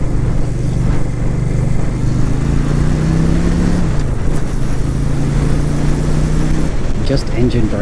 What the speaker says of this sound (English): Just engine braking.